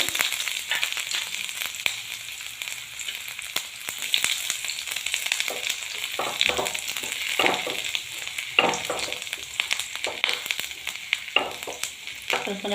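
Chopped ginger and garlic fry in hot oil for a shahi paneer gravy. A steady, bright sizzle and crackle runs throughout, with occasional scraping stirs breaking through.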